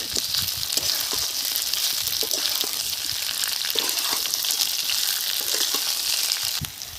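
Green chilies stirred into hot oil with frying potatoes for a Bengali rui fish curry give a steady, loud, close sizzle, with occasional soft stirring scrapes and no voices.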